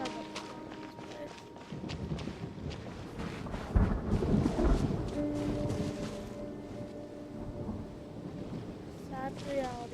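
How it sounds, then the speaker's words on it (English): A thunderstorm in the video game Genshin Impact: steady rain hiss with low rumbling thunder swelling in the middle, mixed with game sounds and a voice speaking over it. "Oh no, it's because of the storm, isn't it?"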